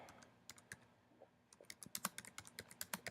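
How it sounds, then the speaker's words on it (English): Someone types on a computer keyboard, faint scattered key clicks at first, then a quicker run of crisp keystrokes near the end, with no talking. "you're going to type in"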